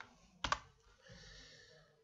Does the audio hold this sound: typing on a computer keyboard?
yes